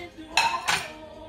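Dishes clinking as sauce is put on a plate, two quick bright clinks of crockery in succession, close and fairly loud over a quiet background.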